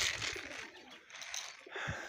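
Soft pigeon coos, a few low rounded calls repeating over a steady outdoor hiss, moderately quiet and fairly close.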